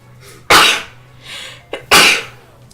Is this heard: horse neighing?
no